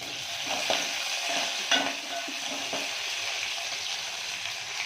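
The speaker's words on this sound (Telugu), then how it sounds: "ఇమీడియట్లీ కరివేపాకు వేసేస్తున్నాను ఫస్ట్." Curry leaves crackling in hot oil alongside browned onions for a horse gram chicken biryani base, a steady broadband sizzle with a few sharper pops and spoon scrapes, close and continuous, no voices.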